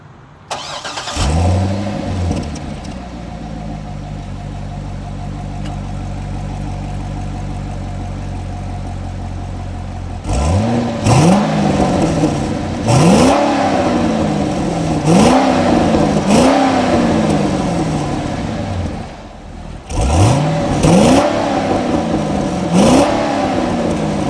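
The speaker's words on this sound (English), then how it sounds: "Want to hear a rumble?" A 2007 Chevrolet Corvette C6 convertible engine cranks and starts, settles into a deep idle through quad exhausts, then is revved repeatedly in sharp, throaty bursts with pauses between.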